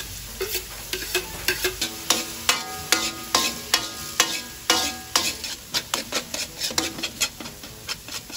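Chopped onion frying in a pan, stirred again and again with a utensil. Steady sizzling runs underneath a regular series of scraping strokes against the pan, close and fairly loud. No one talks.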